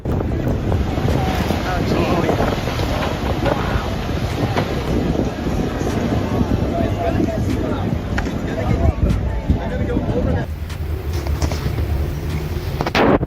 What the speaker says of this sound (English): Sailboat nearly tipped as it struggled against the waves near the city shoreline.